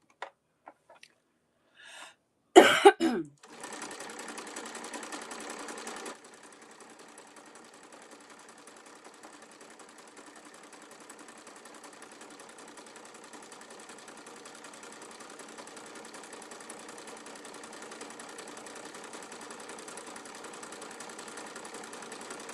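A sewing machine stitching a thick zigzag while making a cosmetic bag: a few clunks and a short burst of handling, then a steady fast mechanical whir running on alone for nearly twenty seconds, close and even.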